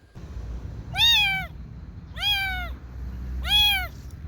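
A cold, hungry homeless kitten gives three clear, close, rising-and-falling meows evenly spaced over a few seconds, with no talking.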